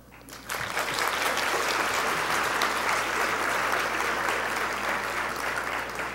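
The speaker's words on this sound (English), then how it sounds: "We applaud you both." Sustained applause from a ceremony audience honoring African American women pioneers swells in after a brief quiet moment, then continues as a full, even roar of clapping throughout, with no speech over it.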